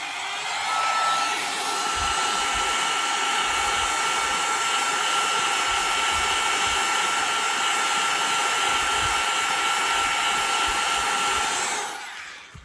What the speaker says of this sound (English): the best thing is use a hot air blower, not your torch